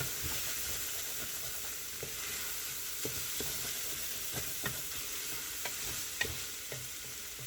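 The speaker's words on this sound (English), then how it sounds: "I'm just frying that until it gets cooked, scraping the stuff off the bottom of the pan" Chopped onion frying in a pan, with a constant close sizzle and a run of irregular scraping knocks from a utensil against the pan bottom, no talking.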